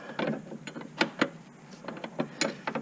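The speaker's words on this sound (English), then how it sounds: "so we're going to start tightening this down" Bolts on a car's master brake cylinder being tightened by hand with a tool, heard as a series of short, close metallic clicks and ratcheting ticks in uneven bursts with small pauses between.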